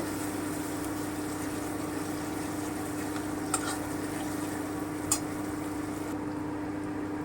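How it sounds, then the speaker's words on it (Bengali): Peas charchari with onion paste being stirred in a pan, a steady low sizzle with a couple of faint scraping taps from the spoon, close and even throughout. "একটু নেড়ে নিচ্ছি একটু নেড়ে নেব"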